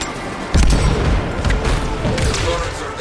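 Heavy gunfire and booming impacts as turrets are shot down in Anthem, a loud sustained barrage with repeated bursts close by.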